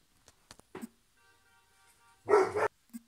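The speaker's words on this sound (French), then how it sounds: "Je sais pas si vous entendrez les chiens sur la vidéo" A dog barks a couple of times amid sparse, faint clicks and a low hum, then gives one short yip at the end.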